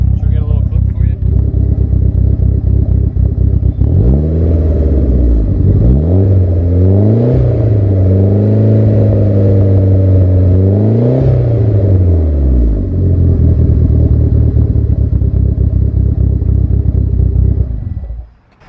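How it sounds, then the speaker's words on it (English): A DSM car engine with its exhaust rattles fixed idles, then revs repeatedly in rising and falling pulls before settling back to a loud, steady rumble that cuts off at the end. "No more rattling, just nice DSM sounds."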